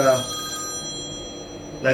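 A cell phone rings with a steady electronic tone, sustained across the moment at moderate loudness, with brief voices at the start and end.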